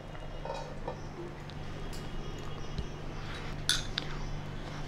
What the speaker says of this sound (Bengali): 5 মিনিট পর ঢাকনা খুলে দিচ্ছি।